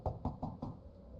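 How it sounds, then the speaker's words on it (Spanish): Four sharp knocks on a house door in quick succession, then silence, fairly close and clear. "Satoshi escuchó un golpe en la puerta de la casa"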